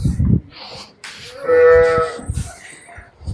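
A cow moos once, a long, loud, close low call in the middle, with brief rustling and handling noises before and after.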